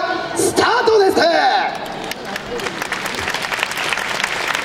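Audience at a youth dance festival in a hall breaking into loud applause, dense clapping that swells then settles into steady continuous patter, with an announcer's voice at the start.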